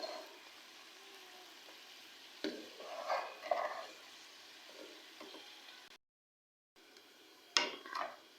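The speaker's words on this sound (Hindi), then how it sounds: "दो से 3 मिनट तक हम लोग सब्जियों को चिकन में अच्छी तरह से मिक्स करेंगे।" Vegetables being stirred into chicken karahi in a pan: soft sizzling under a few scraping and clinking stirs, quiet and close, with a short silent gap.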